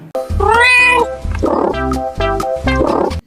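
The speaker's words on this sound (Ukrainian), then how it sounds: "Так, це кішечка." Cat meowing in a string of loud, close, drawn-out cries, the first long and wavering, then three shorter calls in quick succession, heard alone.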